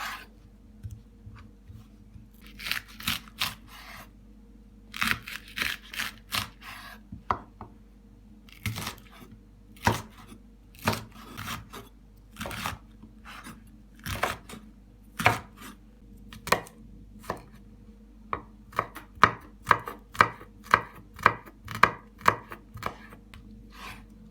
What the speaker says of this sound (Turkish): Soğanımızı ortadan ikiye bölüp küp küp doğrayalım.